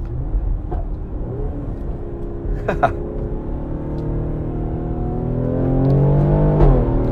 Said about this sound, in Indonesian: suara knalpotnya dan letupan-letupan ini tetap sangat menyenangkan untuk didengarkan